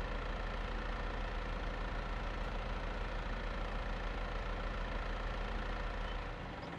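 A small tractor in Farming Simulator 22 idles with a constant low engine rumble, close and unchanging, fading only at the very end.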